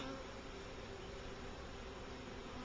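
A steady, dense hum of honey bees buzzing continuously, faint and even in level, with no pauses or voices over it.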